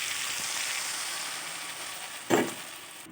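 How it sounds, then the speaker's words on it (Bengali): Shrimp and cauliflower curry with a bean-seed tarka sizzles steadily in a pan, then a short splash of water hits the hot oil in one sudden hissing burst near the end. "এবার আমি এতে অ্যাড করে দেবো সামান্য পরিমাণ জল"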